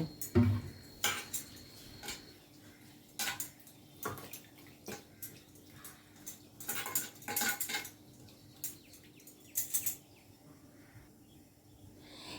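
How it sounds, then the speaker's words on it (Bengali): Flattened rice (chira) is washed by hand in water in a bowl, giving soft wet sloshes and splashes in irregular bursts with faint clinks against the bowl; close and fairly quiet, no talk. "এই চিড়েটাকে আমি জল দিয়ে ভালো করে ধুয়ে নেব।"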